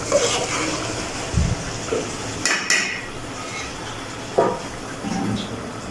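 A spoon stirs cooked black-eyed beans in a metal pot, making scattered metallic knocks and scrapes over a steady background hiss, close by.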